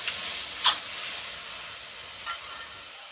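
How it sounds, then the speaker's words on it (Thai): Thick coconut cream sizzles and simmers in a pan over a wood-fired stove in a rural Thai kitchen, a steady close bubbling hiss with a couple of brief louder pops and no voices. "ใส่หัวกะทิลงไปเคี่ยวนะยาย"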